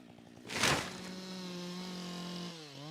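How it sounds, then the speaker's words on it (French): A chainsaw revs up loudly in a burst, then settles into a steady high-pitched drone as it cuts into a dead tree, close by. "À la tronçonneuse, Mike est navré par l'ampleur de la tâche."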